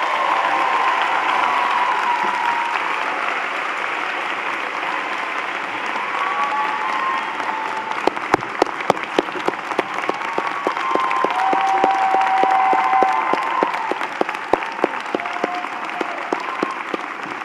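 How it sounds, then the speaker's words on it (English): An audience at Brooklyn Law School's 117th commencement ceremony breaks into loud, sustained applause. Dense clapping fills the hall, with sharper individual claps standing out over a low crowd murmur. "Give her a big round of applause for that."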